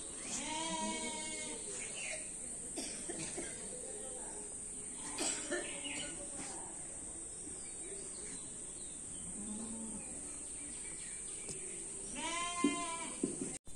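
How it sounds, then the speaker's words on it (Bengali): A sacrificial goat kept for Eid al-Adha bleats several times at close range, with quavering calls near the start, midway and near the end, over a steady background of insect chirring and faint household sounds. "এইটা আমাদের কোরবানির ছাগল"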